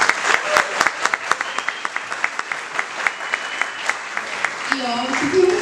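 An audience at a university philosophy talk claps for a professor, a steady round of applause with distinct individual claps, fading near the end as a voice begins speaking.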